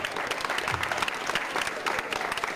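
Audience at a live band performance clapping in warm, sustained applause, dense and steady throughout, with a faint voice mixed in.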